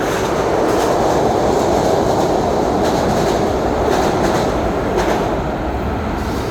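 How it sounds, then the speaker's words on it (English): A train rumbles past beneath a walkway on a Philadelphia college campus, a steady loud roar of rolling wheels with faint rhythmic clacks, continuous throughout with no voices. "We're walking over the train."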